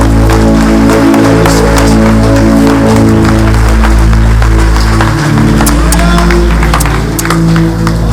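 A church congregation claps in praise during a service, rhythmic loud clapping over sustained organ or keyboard chords and a steady low hum.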